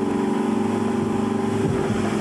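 A jet ski skims over sea waves off the Catalan coast, its engine a steady, continuous droning hum at moderate distance with no voices.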